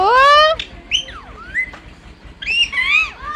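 A parrot gives a series of loud, harsh squawks and whistling chirps in short bursts with pauses between, close by.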